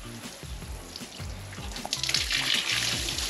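Water splashes and pours steadily over tomato seedlings in a greenhouse, the flow growing stronger and louder toward the end, with no talk.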